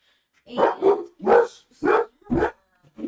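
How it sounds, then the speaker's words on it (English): A pet dog barks five times in quick, loud, close succession, each bark sharp and separate, with a short pause before a final faint yip; the room is otherwise quiet. "apologies, everyone. That's my dog."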